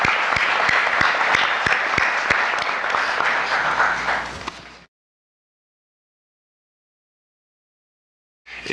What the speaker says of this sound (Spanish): Solo quería pedir un aplauso para los panelistas.